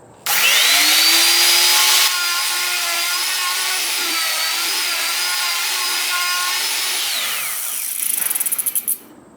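A power tool, likely a router, cuts wood around a guitar template in a clockwise pass: a loud, steady high whine with a strong pitched tone that holds for several seconds, then winds down with a few rattling bursts at the end.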